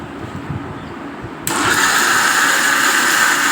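Mixer grinder switching on partway through and grinding sago and rice into batter, a loud steady whir that runs on alone after a quieter stretch of room noise.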